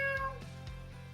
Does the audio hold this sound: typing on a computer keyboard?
no